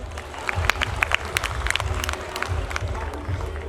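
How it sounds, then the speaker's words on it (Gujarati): Applause at a family gathering, a short burst of scattered hand claps from a small group, fairly close, with faint voices underneath. "ઓકે, હવે આમનામાંથી એકવાર તાળીઓ થઈ જાય"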